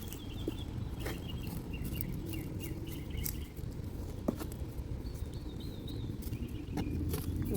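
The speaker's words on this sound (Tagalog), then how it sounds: "Naririnig nyo ba yun guys? Tunog yun ng ibon." Small birds chirp and tweet intermittently through a steady outdoor ambience, their high calls fairly faint against broadband background noise.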